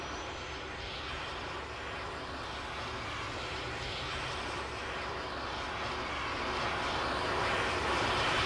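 A jet aircraft in Arma 3 roars with a steady, loud, broadband engine rush that builds slightly in intensity over several seconds, with a faint high whine on top.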